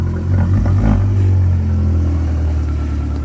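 A Fiat Abarth engine revs up in a loud, close surge that rises and then settles into a steady, deep idle rumble, with no voices.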